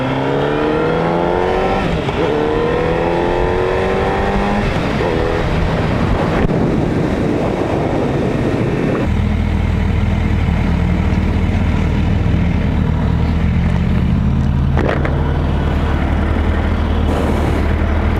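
A Suzuki Hayabusa motorcycle ridden on the road, its engine rising in pitch through hard acceleration and then settling into a steady, loud drone beneath constant wind rush.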